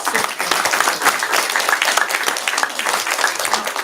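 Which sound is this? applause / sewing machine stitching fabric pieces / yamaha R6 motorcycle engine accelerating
applause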